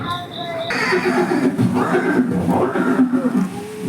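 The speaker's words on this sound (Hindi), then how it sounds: "ये दृश्य महाराणा प्रताप और सुविख्यात स्वामी भक्त घोड़े चेतक के अंतिम मिलन का है।" A horse neighing in a Haldighati display recalling Maharana Pratap's horse Chetak, a loud, drawn-out whinny rising and falling over several seconds, heard close with a voice talking over part of it.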